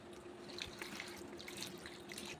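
Potatoes being washed in water, with steady running water splashing from a tap into a sink and scattered drips, faint and continuous throughout.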